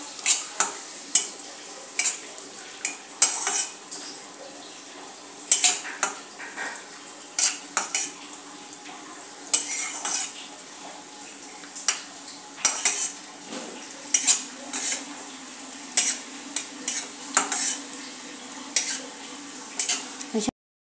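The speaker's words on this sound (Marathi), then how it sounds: "आता यातच आपण मनुके घालून घेऊया। मनुकेही चांगले रोस्ट करून घेऊया।" Raisins and cashews roasting together in a pan for carrot halwa, stirred with a spoon that scrapes and clicks against the metal in a steady rhythm over a faint sizzle, close and fairly loud, with no voices.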